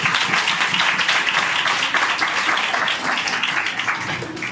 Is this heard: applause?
yes